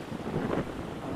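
Wind buffets a microphone on a beach at Laem Prathap, a brief low rumbling gust swelling and fading with no talk.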